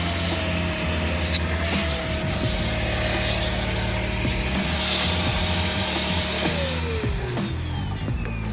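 A Craftsman XSP 4 gallon shop vacuum runs with a steady, loud motor whine and a constant rushing of air, with some faint rattling and scraping from the attachment.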